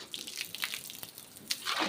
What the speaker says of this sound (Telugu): ట్యాప్ వస్తుంది వాటర్ పడుతున్నాం